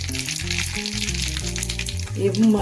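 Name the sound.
mustard seeds sizzling in hot oil for tempering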